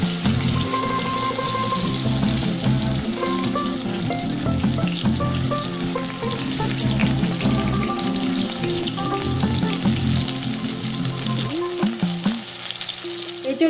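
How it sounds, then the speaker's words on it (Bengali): Jackfruit pieces fry in a pan for a chili jackfruit dish, giving a loud, steady sizzle with stirring scrapes throughout, close up and with no talk. "এঁচড়ের টুকরোগুলো ভাজা হয়ে গেছে"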